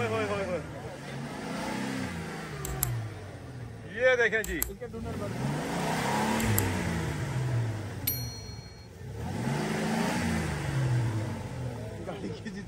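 A Land Cruiser stuck deep in mud revs its engine in rising, falling surges, rocking back and forth, with someone talking loudly over the engine throughout.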